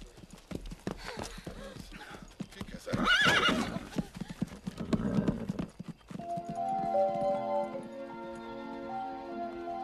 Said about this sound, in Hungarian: tele van a környék lovakkal